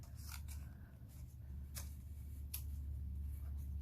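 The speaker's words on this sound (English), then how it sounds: "So I'm going to take my scissor and I'm going to cut in a slant direction." Scissors snipping a slanted cut through decorative craft paper: a few faint, crisp snips spaced apart over a low steady hum, quiet and close.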